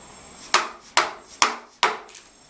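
A chisel strikes into wood four times at an even, unhurried pace, each sharp, loud percussive hit close by and trailing off quickly, with no talking over it.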